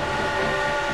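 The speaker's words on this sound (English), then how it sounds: "Curnow heard the sound of a train approaching" A train approaching along a railway track at night, a loud, continuous rumble with sustained tonal whistle-like hum filling the second, no voices.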